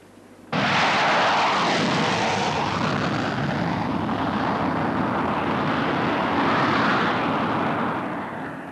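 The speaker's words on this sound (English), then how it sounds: "The sound of low-flying jets is a familiar one around Woodbridge." A low-flying jet aircraft roars overhead near RAF Bentwaters at Woodbridge, a sudden loud broadband rush that swells and sweeps for several seconds as it passes close by, then begins to fade, with no voices.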